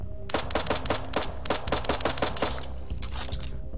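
Pistol shots from the video game Eden Star ring out in a rapid, loud string of about a dozen sharp cracks, then stop, leaving quieter game sounds behind. No one talks.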